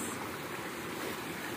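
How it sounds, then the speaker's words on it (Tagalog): Water from Kataw Falls rushes along a stream through rainy farm fields, a steady close broadband wash with no pauses and no voices. "itong tubig na yan, nanggagaling yan doon sa... Doon banda sa Kataw Falls."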